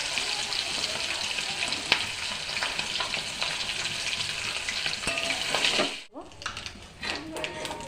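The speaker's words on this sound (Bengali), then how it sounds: "তেল গরম হয়ে গেছে, মাছটাকে হালকা ভেজে তুলে নেব।" Hilsa fish frying in hot oil in a home kitchen, a steady, loud sizzle and crackle for about six seconds, then a brief drop and quieter spitting oil with occasional stirring clinks.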